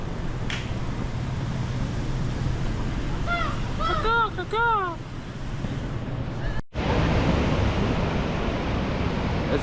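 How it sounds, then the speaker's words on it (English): Small waves wash and break at a crowded Costa Rica beach. The surf makes a continuous rushing noise, mixed with wind buffeting the microphone and a few brief, high voice-like calls in the middle. "It's a little wave out here."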